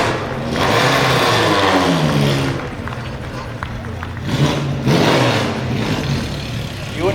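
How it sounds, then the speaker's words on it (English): A small 1-liter race car engine screams loudly and steadily at high revs, surging and dropping in pitch through a couple of gear changes, with voices partly underneath, at a concours of elegance at Blenheim Palace. "You wouldn't think that's just a 1-liter engine, would you?"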